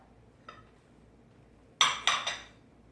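Metal utensil clanking against a pan while beef is mixed for bistek tagalog: one light tap, then three sharp, close clinks in quick succession, loud against a quiet background.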